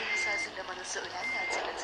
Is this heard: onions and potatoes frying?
no